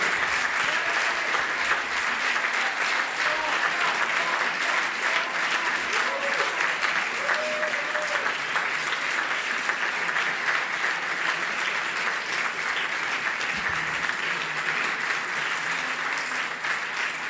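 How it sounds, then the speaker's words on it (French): Sustained audience applause at a French LaREM party seminar, a steady dense wash of many hands clapping at close range for the whole stretch, with faint voices and cheers mixed in. "nous puissions applaudir."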